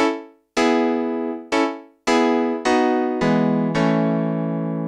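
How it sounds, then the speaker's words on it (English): Digital grand piano voice on a Nord stage keyboard, a detuned layer widening its tone: seven distinct chords or notes struck in turn, each ringing and decaying, the last ones sustaining and overlapping, close and clear with no talking. "I've got this sound, which is the Digi Grand."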